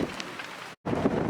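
Rain and gusting wind on a sailboat at anchor during the Caribbean rainy season, a steady broadband wash of rain and wind buffeting that cuts out briefly and then resumes.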